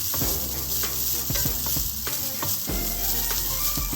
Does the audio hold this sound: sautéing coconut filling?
yes